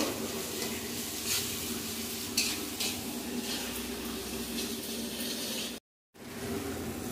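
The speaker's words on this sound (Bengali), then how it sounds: "পোস্ত বাটা দিয়ে আর ভালো করে কষিয়ে নেব।" Spice paste with ground poppy seed fries and sizzles steadily in a pan with a soft hiss and occasional stirring scrapes, with one brief dropout near the end and no talking.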